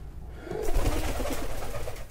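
Pigeons give a short, low burst of cooing close by, a soft rolling coo over a dull background hum.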